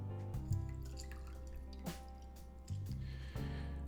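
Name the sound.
lemon juice squeezed and dripping into honey water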